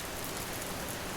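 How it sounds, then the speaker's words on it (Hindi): Light rain falls steadily, a dense even hiss of drops close by with no pauses and no voices. "महसूस करिए इन हल्की बारिश की बूंदों को जो आपके आसपास घेरा बनाए बैठी है"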